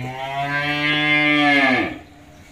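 A single large cow gives a long, deep, close moo lasting nearly two seconds before it drops away, with quiet farm background and no talk.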